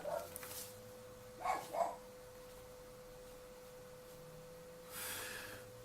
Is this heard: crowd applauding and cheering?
no